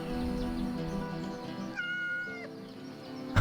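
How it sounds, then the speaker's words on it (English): A cat in a medieval kingdom-management video game meows in a few drawn-out, wavering calls, clear and close over a soft background game soundtrack. "A cat!"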